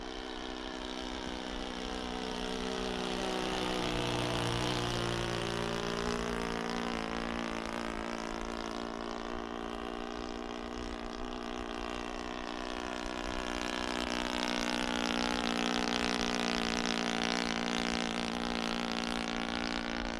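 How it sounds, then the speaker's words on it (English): A 0.65 nitro four-stroke engine on a VQ Models Tiger Moth RC plane drones in flight, a steady buzzing tone that rises and falls in pitch as the plane passes at a distance, fairly faint and alone. "The engine seems better if I don't have it right open."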